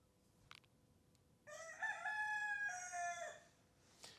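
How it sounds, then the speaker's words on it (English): A rooster crows from a neighbour's house up the hill, one clear, drawn-out call rising and falling over about two seconds, somewhat distant against a quiet background with a faint click beforehand. "there's another rooster that lives not too far away at our neighbour's house, and I can hear it crowing"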